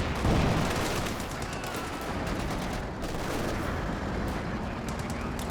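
Machine gun fire rattles through a Company of Heroes 2 battle, dense sustained bursts layered with other gunfire and distant booms, loud and continuous throughout.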